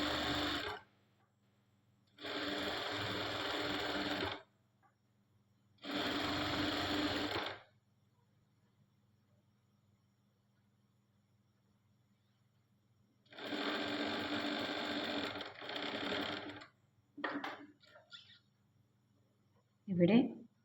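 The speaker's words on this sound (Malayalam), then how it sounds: "ആ ലൈനിൽ തന്നെ സ്റ്റിച്ചിങ് ചെയ്തുകൊണ്ട് വരാൻ പറ്റും" A sewing machine stitches along a marked line on fabric for a kaftan nighty, running in several steady whirring bursts of a second or two each, separated by quiet pauses, with a couple of short stuttering runs near the end.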